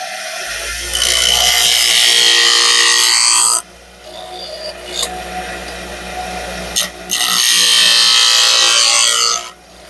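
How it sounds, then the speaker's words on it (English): A woodturning skew chisel is pressed against a bench grinder in bursts, giving a loud, steady rasping grind for a few seconds, a quieter gap with the motor still whirring, then a second long grinding pass that stops near the end. "I'm going to hit my skew here for a minute on the grinder."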